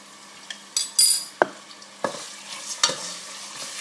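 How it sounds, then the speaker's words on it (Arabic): Meat fries in a pan with salt, turmeric and black pepper while a utensil stirs it, giving scraping clinks and knocks against the pan over a quiet sizzle. "قلي حتى لين اللحم ياخو وجه"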